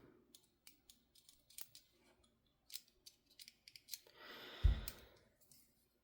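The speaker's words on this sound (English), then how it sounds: "You pull it back and up to release the blade and to disengage." Quiet, close metallic clicks and small scrapes from a strong-locking folding knife as the lock is pulled back and up to release the blade, ending in a brief soft rustle.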